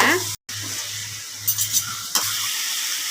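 Chopped tomatoes sizzle steadily in a hot pan while cooking a mutton gravy, with a brief cutout and a few scraping stirs of a utensil partway through.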